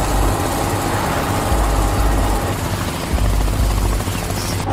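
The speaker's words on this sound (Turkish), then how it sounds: "Helikopter var tepemizde." Helicopter passing overhead in a tense escape scene, a loud continuous rotor thrum and engine roar that fills the whole stretch and stays close and dominant.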